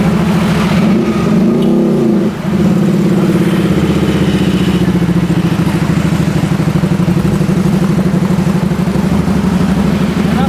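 An SM V16 Harley-style motorcycle engine idles loud and close, dips for a moment, then keeps running with a rough, steady throb.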